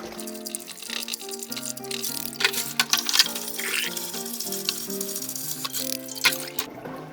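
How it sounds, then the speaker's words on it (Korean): Blanched spinach is rinsed by hand in a basin of cold water, with close splashing and dripping sloshes over steady background music. "저는 이렇게 미리 찬물을 받아 놓아서 이렇게 최대한 헹궈 주세요."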